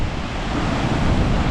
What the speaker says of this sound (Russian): И внизу здесь есть это водопад тоже